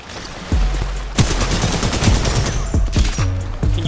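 A video game turret fires a fast string of punchy, booming shots, loud and close, the bursts overlapping into a rolling barrage with brief gaps between volleys.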